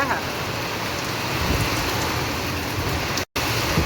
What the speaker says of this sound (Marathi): खतरनाक मध्ये हा काय पाऊस आहे.